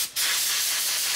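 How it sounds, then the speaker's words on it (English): A paint spray gun set to 30 psi gives a quick test burst, a loud, steady airy hiss starting abruptly after a brief pause and holding for about a second. "I'm just going to give it a quick test spray here."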